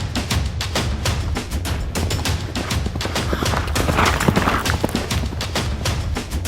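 Musket volleys from a small band of armored Portuguese soldiers demonstrating their marksmanship in the Moluccas, dense overlapping cracks of gunfire rolling continuously and loudly throughout.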